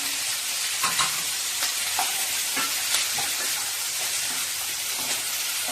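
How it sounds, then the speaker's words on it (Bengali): Chopped tomatoes tossed into a hot pan of sizzling prawn stir-fry, a loud continuous frying hiss broken by repeated spatula scrapes and clacks about once a second. "এই কুচানো টমেটোগুলো আমি এর মধ্যে দিয়ে দিলাম।"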